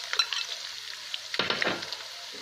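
Garlic and ginger frying in a pan of oil for a fish head curry: a steady close sizzle with brief louder crackles as the pieces go in, no talking.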